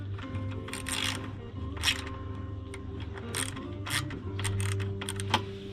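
Ratcheting clicks and metallic mechanism noise from bolts being tightened while a rear cargo rack is fitted to a Super73 e-bike, in short bursts of close, moderately loud clicking over steady background hum.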